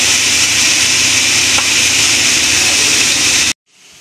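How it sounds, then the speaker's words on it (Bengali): Bitter gourd and potatoes fry in a pan with a steady, close, loud broadband sizzle that holds without pause until it cuts off abruptly near the end. "আলু দিয়ে করলা ভাজি"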